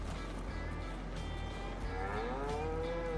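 Cattle on a farm in a farming simulation game let out a drawn-out moo over a steady low background hum, with a faint engine-like drone underneath.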